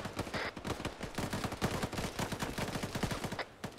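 Rapid bursts of automatic gunfire crackle from a hilltop position in the Liberation war game, dense overlapping shots sustained throughout with steady loud intensity.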